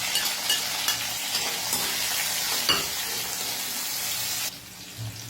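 Ginger, onion and tomato sautéing in hot cooking oil in a pan, a steady close sizzle with stirring scrapes throughout that drops off sharply near the end.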